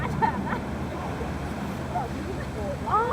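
A steady low engine rumble and water wash from a ferry underway to or from the Toronto Islands, with wind noise and a few brief voices in the background.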